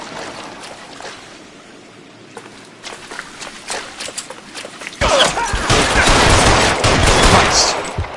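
Gunfire in the crime video game L.A. Noire, a muffled exchange at first and then a loud, dense burst of rapid shots and fusillade from about halfway through that continues to the end.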